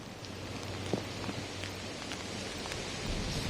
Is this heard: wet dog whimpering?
no